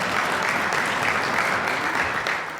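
A studio audience at a street-football show claps and cheers continuously, a loud dense burst of applause with no clear voices above it.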